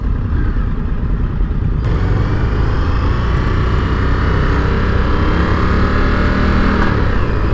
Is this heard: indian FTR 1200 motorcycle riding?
yes